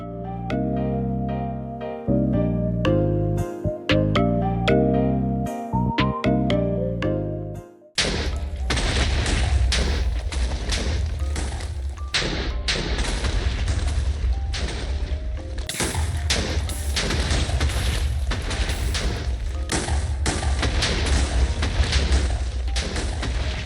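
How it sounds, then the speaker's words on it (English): A short stretch of music gives way to a long, loud barrage of overlapping TNT explosions in Minecraft, booming and crackling continuously like a chain of blasts. "that was one of the best explosions I've had"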